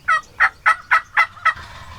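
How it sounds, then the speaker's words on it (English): Two wild Osceola turkey gobblers gobble in a quick burst of six loud, rattling calls, evenly spaced and fairly close, with no talking over them. "two gobblers cut loose out of nowhere"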